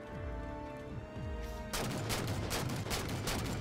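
Gunfire in Halo 4 Spartan Ops, the Didact's Hand mission: a low pulsing weapon sound gives way to rapid bursts of loud crackling shots that repeat quickly and close up, with no talking.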